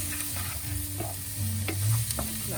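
Curry being stirred in a pan on the hob, a creamy, rich sauce gently cooking, with a steady low sizzle and soft scraping strokes of the spoon close by.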